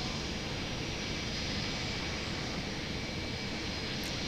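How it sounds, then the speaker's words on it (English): A jet engine spools up in the Lock On flight simulator game, a steady, loud broadband roar with a high whine, constant throughout and without speech. "so let's fire up the right engine"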